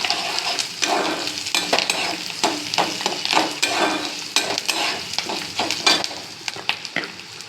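Turmeric frying in a pan with salt while being stirred, a busy crackling sizzle punctuated by frequent utensil scrapes and knocks against the pan, close and without speech.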